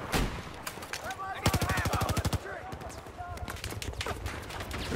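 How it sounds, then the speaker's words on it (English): Automatic gunfire in Battlefield 4 infantry combat: rapid bursts of shots, including one long fast burst, mixed with other weapon fire nearby, with voices talking over the fighting. "They're shooting from somewhere."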